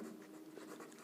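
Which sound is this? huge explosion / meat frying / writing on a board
writing on a board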